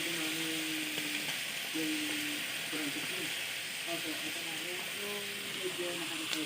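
Onion and garlic sauté with chicken intestines in a pan after vinegar goes in, a steady close sizzle and hiss with faint stirring scrapes, while a voice talks over it intermittently.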